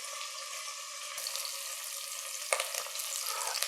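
Softening onions frying in a soup pot give off a steady close sizzle, broken by a few scrapes and knocks as a spoon stirs them, with no talking.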